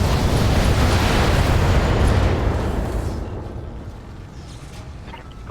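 A weapon blast and explosion in the BattleTech game's urban warfare: a loud, roaring burst of noise that holds for a couple of seconds, then slowly fades into a quieter rumble.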